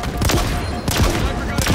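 Assault rifle fire in Halo Infinite multiplayer, a dense sustained burst of rapid shots with loud game battle noise throughout, the player's voice faintly mixed in.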